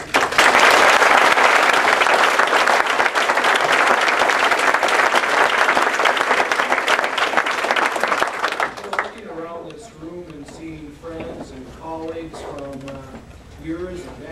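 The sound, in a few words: audience applause welcoming Paul Ronningen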